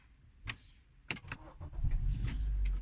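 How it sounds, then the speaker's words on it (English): A Honda car starts with a keyless fob: a few clicks and clunks, then the engine cranks and catches into a rising, steady idle rumble, close by with no talk. "So let's start the car."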